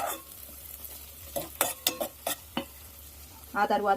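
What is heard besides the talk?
green chillies frying in hot oil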